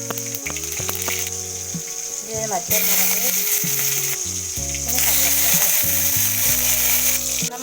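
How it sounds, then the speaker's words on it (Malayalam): Mustard seeds tempering in hot oil for a home-cooked curry crackle and sizzle loudly up close. The sizzling is continuous and grows fuller midway, with background music and a brief spoken phrase. "അപ്പോൾ കടുക് ഇട്ട് കൊടുക്കാം."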